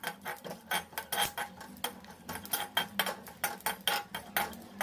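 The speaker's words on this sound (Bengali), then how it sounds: "আমন্ড আর ওয়ালনাট। মিশিয়ে বীজগুলো ভেজে নেব।" Seeds roasting with almonds and walnuts in a dry pan for protein laddu, heard as a rapid series of sharp scraping clinks from a spatula against metal, fairly close and steady, with no talk.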